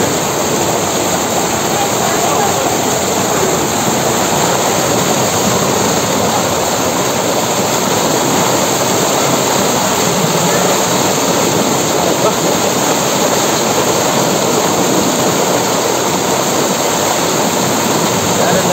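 A waterfall at Tenkasi pours with a loud, unbroken roar of rushing, splashing water that holds steady from start to finish, close and all-enveloping.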